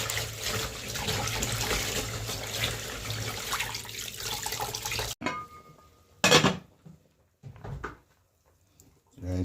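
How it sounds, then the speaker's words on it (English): Tap water pours steadily into a bowl of rice being washed, then cuts off, leaving a few separate splashes and drips with quiet gaps between them. "by washing my rice and thing"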